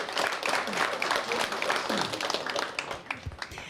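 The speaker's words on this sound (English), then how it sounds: "round of applause for all of you." An audience at a state quiz bowl tournament gives an award round of applause, continuous crowd clapping that stays steady and then tapers and thins near the end.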